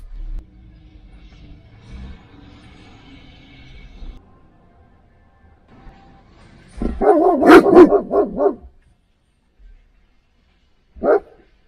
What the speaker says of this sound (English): He has a barking habit, he really does.